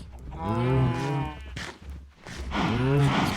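Cows in the Minecraft video game give two long, loud, close moos, one after another with a brief gap between them.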